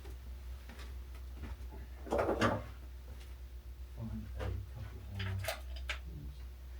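Wooden drawers being pulled out of a cabinet during a front post repair, a few knocks and sliding scrapes with a louder clatter midway, fairly faint and close in a quiet room.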